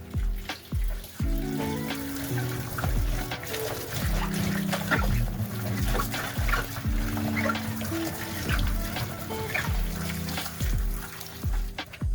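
Water splashes and trickles as sliced potatoes are rinsed in a bowl to wash off starch for Kenyan bhajia, with irregular sloshing, dribbling and close knocks that go on throughout.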